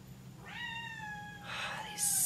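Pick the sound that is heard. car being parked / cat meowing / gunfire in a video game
cat meowing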